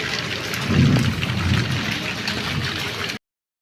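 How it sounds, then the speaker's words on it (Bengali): Low rolling thunder rumbles through steady rain during an all-day downpour, the rumble swelling near the start and then fading back into the continuous hiss of rain before cutting off. "এই যে মেঘ গুড়গুড় গুড়গুড় করা শুরু করে দিয়েছে।"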